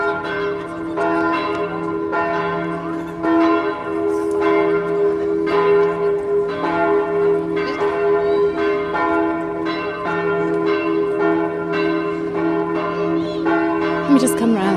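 Church bells peal loudly and continuously in a steady rhythmic sequence of struck tones with sustained ringing overtones, heard outdoors in Palma de Mallorca around Christmas, with no talk over them.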